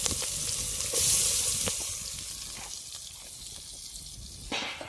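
Onions frying in a pan for egg biryani at a canal-side campsite, a steady close hiss and sizzle with occasional stirring scrapes, loudest early on and easing slightly toward the end.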